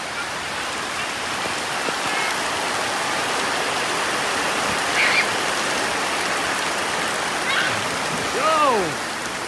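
River water rushes in a steady, dense broadband wash where a group goes bathing, close and continuous, with a few faint chirps and squeaks near the end.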